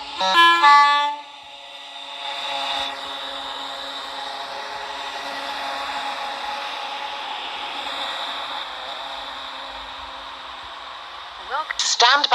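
A three-coach train runs at the Faraday Road station platform with a steady mid-level rumble and hum. An announcement chime sounds at the start, and a short horn-like blast sounds at the very end.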